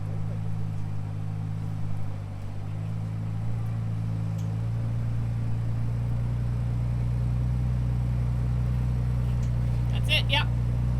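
Ford Bronco Raptor crawling up an off-road ridge, its engine holding a steady low drone throughout, close and even, with a brief clatter near the end.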